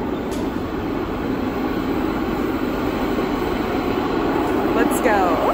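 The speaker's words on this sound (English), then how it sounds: "We're at the Central Railway Station." A train rumbles steadily at Sofia Central Railway Station in Bulgaria, a dense, continuous rolling drone that stays up close and loud throughout, with a faint high squeal near the end and no clear talking over it.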